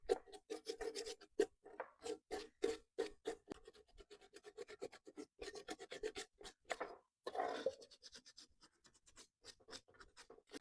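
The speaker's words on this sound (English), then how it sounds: "I'm just going to take some sandpaper, just sand down so it's nice and smooth" Sandpaper rubbed back and forth over a small metal can, a quiet, steady series of short rasping strokes with brief pauses between them.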